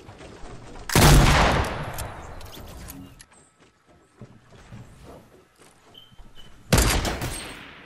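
Semi-automatic rifle fire in the Fortnite battle royale game: a loud burst near one second and another near the end, with quieter clatter and game sounds between them.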